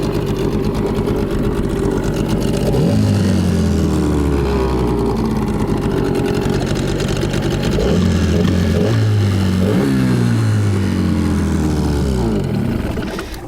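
A Tohatsu 9.8 outboard boat motor runs loudly and continuously, its pitch rising and falling as the throttle changes, close by and without voices.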